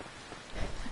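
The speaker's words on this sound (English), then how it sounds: "I love rainy days" Steady rain falls in the farming game Harvest Moon: Light of Hope, a soft, even hiss of drops with a slight swell toward the end, no voices over it.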